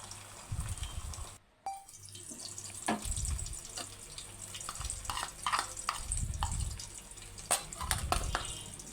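A beaten egg is poured into hot oil and fries with a loud sizzle and crackle, along with scraping and stirring noises, close by, in a Telugu home-style brinjal and egg curry.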